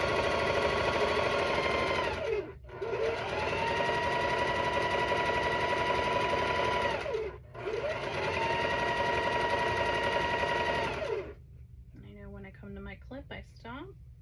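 A sewing machine stitches two rows of a cat quilt together in long steady whirring runs, pausing twice briefly, then stopping as a voice speaks near the end.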